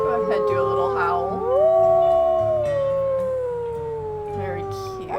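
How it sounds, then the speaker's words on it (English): Wolf howling in the video game WolfQuest, a long rising-then-falling howl with several layered voices sliding together over about five seconds, loud and close. "Go ahead, do a little howl."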